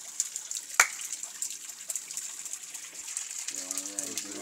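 Water from a pipe pours steadily into a bucket, a faint continuous trickling gush heard throughout, with a sharp knock near the start and a voice speaking briefly toward the end.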